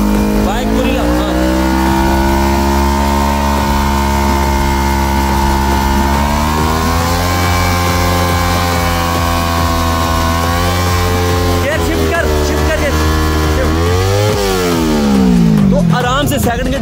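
A Kawasaki Ninja 300 motorcycle is held in second gear during a burnout, its engine revving loudly and steadily with pitch sweeps that climb sharply near the end, close and dominant.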